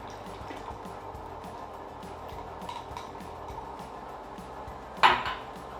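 An ice cream machine runs as mix is added, giving faint, regular ticking and light liquid pouring, with one brief louder splash or clatter near the end.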